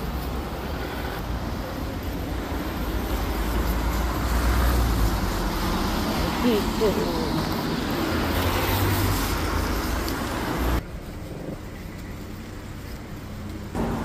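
A bus pulls away along a countryside road in Tonsia, its engine rumbling steadily and fairly loud before the sound drops off abruptly near the end, with a brief voice heard.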